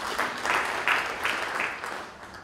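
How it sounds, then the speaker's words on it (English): An audience at a G-Soko launch event gives a burst of applause that swells and fades in several waves, fairly loud and close, with no talking over it. "So you deserve a very big round of applause"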